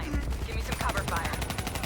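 Rapid, continuous automatic gunfire from the video game Call of Duty Black Ops 3, dense bursts of shots laying down cover fire, loud and steady throughout, with background battle noise.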